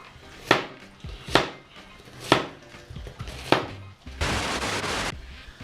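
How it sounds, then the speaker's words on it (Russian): A knife chops onions on a board for chakhokhbili with four sharp, evenly spaced loud strikes roughly a second apart, followed by a burst of dense scraping or sizzling noise; no talking. "Мы быстро сейчас вот это нарезали лук"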